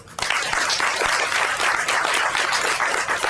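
A dense burst of applause from a room of attendees at a women's policy commission meeting, loud and even throughout, cheering a speaker with no talk over it.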